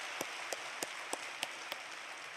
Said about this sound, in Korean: 오늘 아침에도 우리 어린이들을 위해서 한번 박수치고 환영하겠습니다.